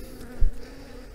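Honeybees buzz close by during a March beehive inspection, a steady low drone with one slightly louder swell, and no voices.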